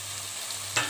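Rajma masala spices frying in oil in a pan, a steady soft sizzle with stirring throughout and a brief louder scrape near the end.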